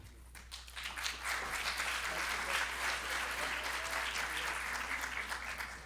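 Audience applause at a 2016 leadership summit, fairly quiet and distant, swelling after a soft start and holding steady with a continuous low hum beneath it.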